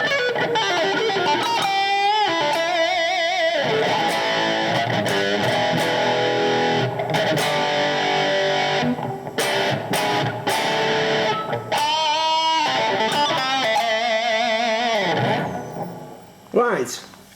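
Electric guitar played through a Zoom G2 Nu multi-effects unit with a modern, singing lead tone and reverb, continuous melodic phrases and held notes, close and loud for most of the passage before fading near the end.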